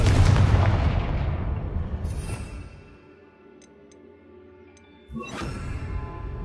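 A Confringo blasting spell in Hogwarts Legacy detonates with a loud, rumbling boom that decays over a few seconds, followed by faint ticks and then a second sharp burst and blast.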